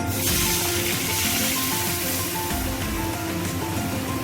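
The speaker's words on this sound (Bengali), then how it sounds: "লালচে হয়ে এসছে, আমি ডালটা দিয়ে দিচ্ছি।" Dal tipped into hot oil that has browned in a pan while a katla fish curry is being made, giving a loud, steady, continuous sizzle that fills the whole stretch.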